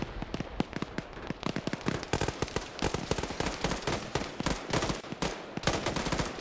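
Rapid automatic rifle fire from a squad firing all at once in an Arma military game operation, dense and continuous sharp cracks overlapping into a steady loud barrage.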